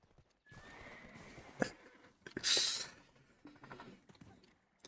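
A horse in Black Desert Online gives a rising whinny, followed by a few hoof clip-clops and a brief bright clatter, fairly faint and without talk.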